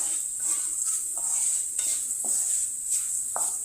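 Elephant yam frying in oil in a pan, a steady sizzle under repeated scraping stirs of a utensil against the pan, close by with no voices.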